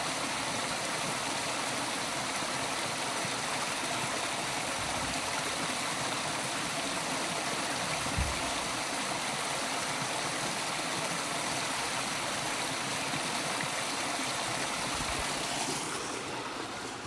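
A small cascade on a stream pours beneath a small wooden bridge near a mill, a steady close rushing of water that continues throughout, with no voices.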